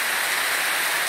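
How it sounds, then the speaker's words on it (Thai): Heavy rain pours steadily across a garden while a rain-fed waterfall runs hard, making a dense, even hiss that fills the clip without a break and with no voices. "น้ำฝนตกแล้วก็มีน้ำตกให้ชมด้วยนะครับ"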